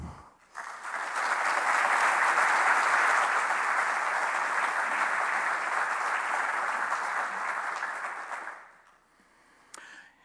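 Audience applause welcoming a speaker at a panel discussion event on education and peace, steady full-room clapping swelling quickly, holding for about eight seconds, then fading out.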